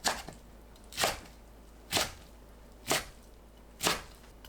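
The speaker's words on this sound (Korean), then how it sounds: "미나리는 뭉친 부분 풀어 길게 놓고 2cm 길이로 썰어줍니다." Knife cutting water parsley (minari) into 2 cm lengths on a cutting board: five soft, evenly spaced chops about a second apart, quiet and close, with no voice.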